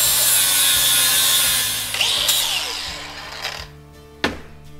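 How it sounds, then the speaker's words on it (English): A grinder works a metal part for a kei truck being built for higher speed. A loud, steady roaring hiss lasts about two seconds, then winds down into scattered clanks and a sharp knock near the end. "I'll grind a little more."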